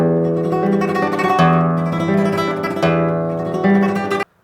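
Flamenco guitar playing a rapid four-stroke tremolo, close and bright, with a thumb bass note followed by fast repeated treble strokes. Full sustained chords change about every second and a half, and the tremolo stops abruptly near the end.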